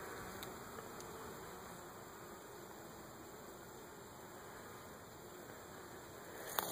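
A steady, faint buzz of bees around a hive in an outdoor apiary, an even droning hum holding throughout with a brief louder pass near the end and no talk.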